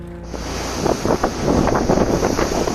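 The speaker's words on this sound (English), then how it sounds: "A waterfront in southern France is battered by waves and high winds" Storm waves and high winds batter a waterfront in southern France, a loud, steady roar of wind and surf that surges and swells throughout without pause.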